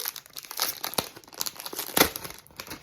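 Close, irregular crinkling and rustling of crisp plastic packaging, with sharper crackles in bursts, no talking.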